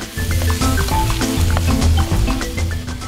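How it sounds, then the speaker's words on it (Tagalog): Garlic, onion and kibit sauté in a pan with a steady, loud, close sizzle that continues throughout. "Lalagyan din ito ng sili at oyster sauce at patuloy lang na igigisa hanggang sa maluto ang mga sangkap"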